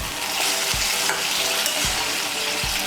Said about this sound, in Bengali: লাউ আর মাছের মাথাটাকে ভালো করে মশলার সঙ্গে মিশিয়ে নেব।